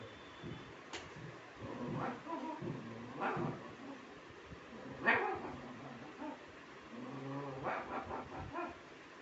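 A person mimics dog barks and yips, ranging from a small puppy to a large dog, several short imitated woofs spread unevenly, fairly quiet and close.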